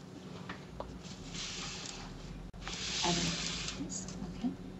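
Soft hissing bursts of a fine mist spray, two longer sprays separated by a short pause, close and fairly quiet.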